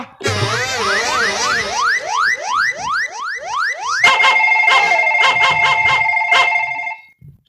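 A phone ringtone plays loud and alone, a rising warbling electronic tune of rapid repeated sweeps that switches to steady beeping tones before cutting off.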